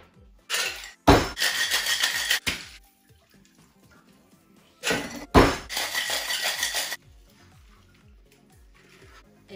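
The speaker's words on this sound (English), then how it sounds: "fill your cocktail shaker full of ice and shake very vigorously" Cocktail shaker packed with ice shaken hard for a birthday cake cocktail, two loud bursts of rapid rattling ice, each about two seconds long and separated by a quieter pause, with faint clinks in between.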